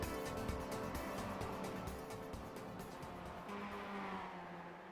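Onboard engine of a Mazda MX-5 race car lapping Suzuka in the iRacing sim, a loud, continuous high-revving drone with shifting pitch and rapid pulsing, heard alone without talk.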